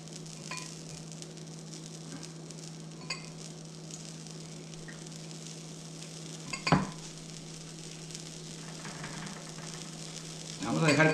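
Tortillas with cheese heating in a pan, a faint steady sizzle with a low hum beneath, broken by a few soft clatters and a louder clunk.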